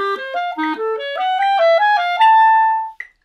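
Solo clarinet plays a slow stepwise passage as written, each note held and separated beat by beat, ending on a sustained tone before a brief final note, clear and close with no talking.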